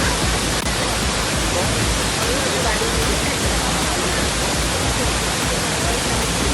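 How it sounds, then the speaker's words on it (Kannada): Abbey Falls waterfall in Madikeri roars as a steady, loud broadband rush of falling water that fills the whole clip without a break. "ನೋಡಿ ಎಷ್ಟು ಚೆನ್ನಾಗಿದೆ ಫಾಲ್ಸು."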